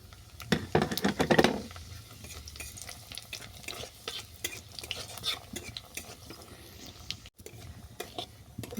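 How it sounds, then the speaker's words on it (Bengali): Cumin seeds and dried red chillies frying in oil, opening with a loud burst of crackle as they hit the pan, then a softer sizzle broken by scattered spoon scrapes and taps. "দিয়ে দিচ্ছি জিরে আর শুকনো লঙ্কা।"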